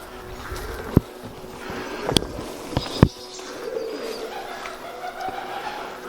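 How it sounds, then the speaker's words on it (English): Pigeons cooing softly nearby inside an abandoned mental hospital, low murmuring calls amid a few sharp knocks and clicks, with a faint hum in the background. "A lot of pigeons in there, I can hear them."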